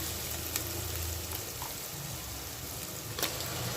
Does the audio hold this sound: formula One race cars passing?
no